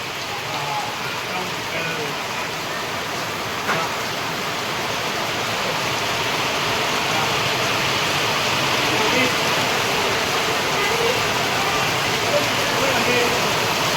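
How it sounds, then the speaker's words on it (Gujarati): Heavy rain pours down on Pura village in a dense, unbroken roar of drops on surfaces, loud and steady for the whole stretch and swelling slightly toward the end. "તમે જોઈ શકો છો કે વરસાદ કેટલો પૂરજોશમાં પડે છે."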